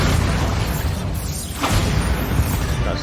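Bombarda spell explosions in Hogwarts Legacy, dense rumbling booms and crashing bursts piling up loudly with little pause, thick low-end roar throughout.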